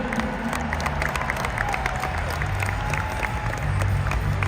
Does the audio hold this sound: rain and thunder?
no